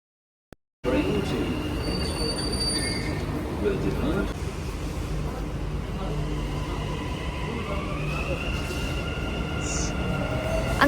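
A Dubai Metro train pulling out of Sobha Realty station, its rolling rumble filling the platform with high, drawn-out wheel squeals rising over it, loud and near after a brief silent start.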